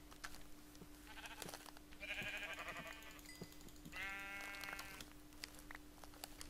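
Sheep bleating in modded Minecraft, several wavering bleats in quick succession, fairly clear over a steady electronic hum and faint game sounds, with no talk.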